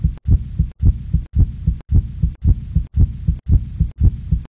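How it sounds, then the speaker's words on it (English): A beating heart gives a loud, steady thumping rhythm, each beat a close double thud with brief silence between, about two beats per second and alone without talk. "you can get a better look at the heart beating."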